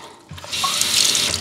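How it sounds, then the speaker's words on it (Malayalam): Water pours into a glass bottle as a steady, close splashing rush that starts after a brief quiet moment and grows slightly louder as it fills. "കുപ്പി നിറച്ച് വെള്ളം ഒഴിച്ച് വെച്ചാൽ, നിറച്ച് വെള്ളമില്ല, കുറച്ച് നിറച്ച് വെള്ളം ഒഴിക്കട്ടെ."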